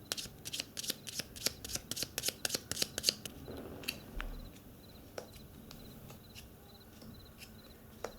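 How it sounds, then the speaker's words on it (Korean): Tarot cards being shuffled by hand, a quick run of crisp riffling flicks for about three seconds, then a few softer card taps and slides in a quiet room. "셔플하고 카드 한번 바로 뽑아보도록 하겠습니다"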